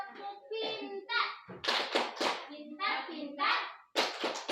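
Children and adults chant a clapping routine at an early-childhood teachers' workshop in Adonara Tengah, Flores, sharp hand claps landing in rhythmic bursts between sung phrases, close and fairly loud.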